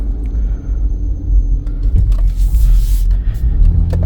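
Car engine in third gear on a road test, with a fault tied to pressure control solenoid D code P2714, gives a loud, continuous low rumble and drone that swells slightly near the end, with no talking.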